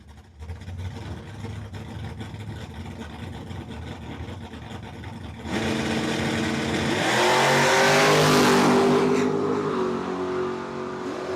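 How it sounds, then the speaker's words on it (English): Chevrolet Malibu drag car making a solo competition-bye pass at a dragstrip during state championships, its engine rising from a steady idle to a loud, roaring full-throttle run that peaks and then fades slightly. "So Cole is going to get a competition bye here with the Chevrolet"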